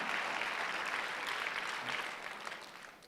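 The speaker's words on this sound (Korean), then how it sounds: "박수 한번 주세요" A church congregation at a Sunday worship service applauds with a dense, even patter of clapping that holds steady for about three seconds, then fades slightly.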